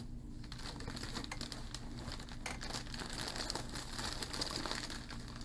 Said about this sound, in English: Pardon all the crinkling.